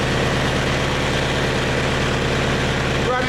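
Leyland 154 tractor diesel engine idling at about 1200 RPM, a steady, even low throb with a fine rhythmic knock running loud and close throughout, alone.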